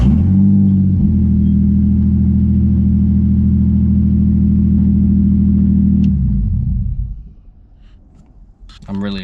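A car started with a push button, its engine settling into a loud, steady idle hum for about six seconds before shutting off, followed by a faint click.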